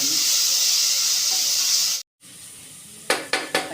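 Ground paste sautéing in a pan for a Tamil green gram rice dish, giving a steady loud sizzle that cuts out briefly, then resumes with several sharp scraping stirs near the end.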